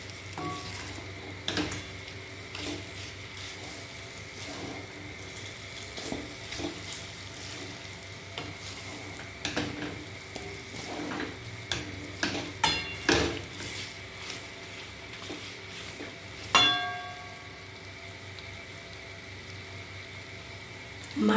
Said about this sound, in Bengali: মাটনটা এইভাবে 15 থেকে 20 মিনিট কষে নিতে হবে।